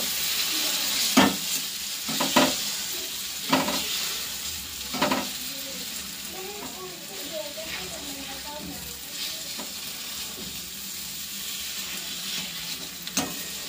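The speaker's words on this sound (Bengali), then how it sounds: "তো আলুটাও এখন ম্যাশ করে দেব।" Potato is mashed in a kadai over a soft sizzle. Several distinct scraping and pressing thumps come early, then a brief stretch of faint chatter, then a few more scrapes, all fairly quiet.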